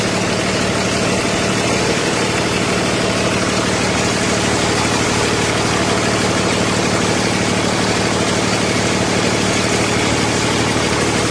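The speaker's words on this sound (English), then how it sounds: "It's got the red top Cummins. Runs good." Freightliner M2 106 truck, a 2016 Business Class with a red top Cummins diesel, idling close by: a loud, steady low rumble with constant vibration and no talking.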